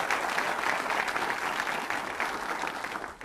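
A studio audience on a word-and-numbers quiz show claps steadily for about three seconds, a dense, even ovation with no voices over it.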